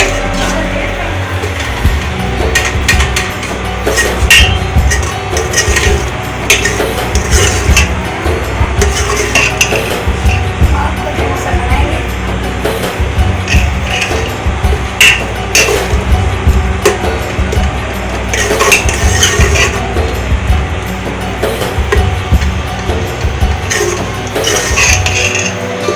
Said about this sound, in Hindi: इसे एक बार भूनते हैं।